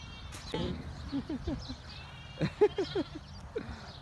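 Goats at a masara goat farm in Al Ain give several short, nasal bleats, scattered and overlapping, near to mid-distance over a low ambient background.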